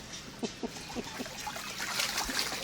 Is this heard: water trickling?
yes